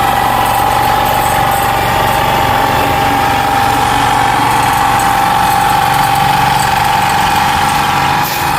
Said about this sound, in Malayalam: മൂർത്തി വെച്ചിട്ടുള്ള തോണിയാണ് എഞ്ചിൻ വെച്ചത്